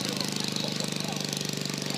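A 1953 Briggs & Stratton 5S small engine running, a fast steady chugging pulse that stays even throughout at moderate loudness, with faint voices in the background.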